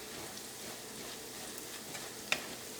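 Turmeric powder frying in coconut oil with ginger and garlic over medium flame for a shrimp pickle: a steady close sizzle with faint stirring and a single sharp tick near the end.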